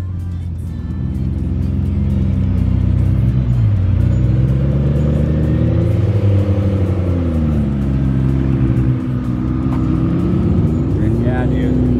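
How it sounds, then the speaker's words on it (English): Hypercars, a Pininfarina Battista and a McLaren Senna GTR, driving on a road in traffic, with a loud, continuous engine hum and rising and falling revs that stay close for the whole stretch. "We got a Pininfarina Battista and the Senna GTR being driven on the road again."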